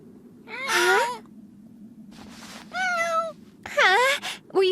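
A cartoon cat in an English-dubbed anime meows three or four times in drawn-out, close, fairly loud calls. Each call falls in pitch, and short pauses separate the calls over a low background hum.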